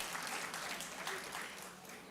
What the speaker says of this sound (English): That is reason to clap.